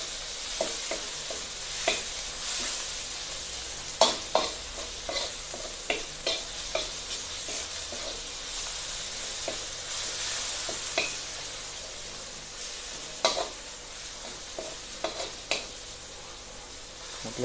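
Food frying and sizzling in a pan while being stirred for Indonesian nasi goreng, a steady crackling sizzle broken by frequent scraping and stirring clicks, close and moderately loud with no talking.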